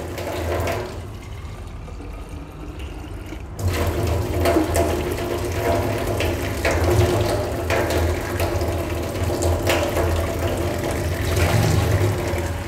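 Tap water runs steadily while a sample collection bottle is rinsed for a water colour test, a continuous splashing gush that grows louder partway through as the flow strengthens, close by with no speech.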